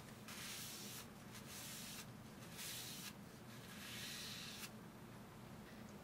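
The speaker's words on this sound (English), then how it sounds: "Spray distilled water onto the surface of the film again." Soft, hissing bursts of a spray bottle misting distilled water onto film repeat several times at close range, quiet against a faint background hum.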